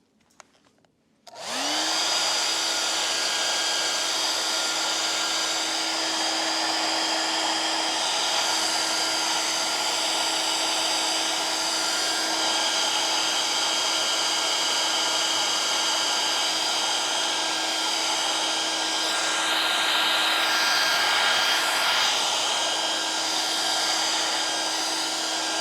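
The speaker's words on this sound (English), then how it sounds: "now I need a little more blow dry." A hair dryer clicks on and blows continuously at close range, giving a loud steady whir with a constant motor tone that runs unbroken for over twenty seconds, with slight shifts in the airflow near the end.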